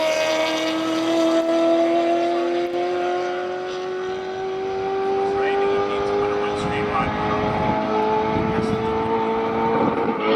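A 1989 Ferrari 348 race car on the Simola Hillclimb passes close and loud, its engine note climbing steadily through the gears, with a brief lift before it pulls on hard again.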